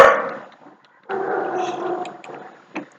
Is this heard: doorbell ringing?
no